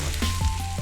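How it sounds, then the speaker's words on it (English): A short burst of oil sizzling in a pan in a cooking video game, steady crackling hiss with a low hum beneath, close and moderately loud. "Sizzling."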